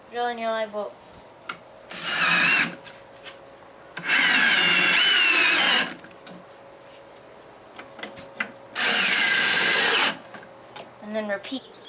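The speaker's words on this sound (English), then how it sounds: "Next thing you need to do is drill in your live bolts" Power drill driving lag bolts, three strong whirring bursts of a couple of seconds each with quieter gaps, close by, with talking at the start and end.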